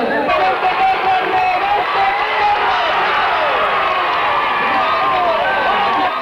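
A crowd cheers and applauds together in a loud, dense, continuous roar after a circuit event, with excited voices and whoops blended into the noise.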